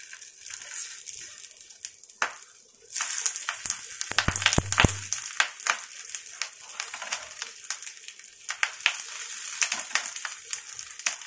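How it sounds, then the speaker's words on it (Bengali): Banana flower patties are set one by one onto an oiled hot tawa and begin frying, giving a soft crackling sizzle with scattered pops and a brief louder clatter early on, and no one talking. "তেলটা গরম হয়ে গেলে এবার আমি এগুলো একটা একটা করে বসিয়ে দেবো।"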